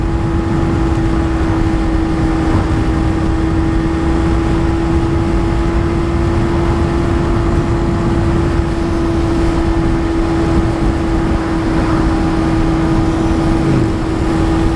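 A car drives along in traffic with a constant, loud engine drone and a steady tonal hum, no voices and no changes in pace.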